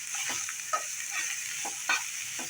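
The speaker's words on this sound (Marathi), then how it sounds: "त्याच्यामध्ये टाकणार आहोत पाती कांदा, तोही छान त्यात परतवून घ्यायचा आहे" Spring onions stir-fried in hot oil with chilli powder and garam masala hiss with a steady sizzle, while a spoon scrapes and stirs the pan in soft, uneven strokes, with no voices.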